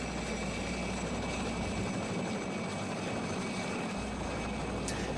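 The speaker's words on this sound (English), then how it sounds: "now it's one helicopter taking off right after another" A helicopter taking off from a ship near Antarctica, its engine and rotor roaring steadily, a constant loud wash of noise with a low thumping throb underneath.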